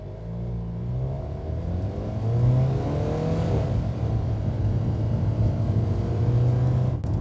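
An Alfa Romeo sports car engine in manual mode accelerates nearby with a deep, building roar, pitch climbing through the gears. No voices are heard.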